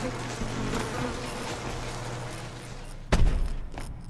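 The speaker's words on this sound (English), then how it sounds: "I hear bees." Insect buzzing in the sci-fi indie adventure game Valley, a steady droning hum of bees or flies that runs for a few seconds before a sudden heavy thud cuts in, with no speech.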